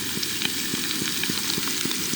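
Steady crackling sizzle of bacon and eggs frying in a pan on a gas camping oven outdoors, with continuous close spitting and popping and no talk.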